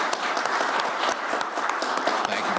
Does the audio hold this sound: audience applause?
yes